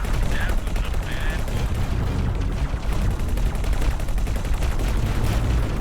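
Ship weapons fire continuously in the space combat game X4: Foundations, with dense rapid bursts of gunfire layered under an ongoing engine and battle rumble and a few short electronic tones.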